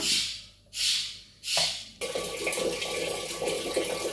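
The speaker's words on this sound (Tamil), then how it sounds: "அது எல்லாத்தையும் கழுவிட்டு வெட்டி எடுத்துக்கலாம்" Running tap water splashes in three short bursts as vegetables for a mixed-vegetable sambar are rinsed, followed by a steady, continuous flow of water into the sink, close and moderately loud with no talking.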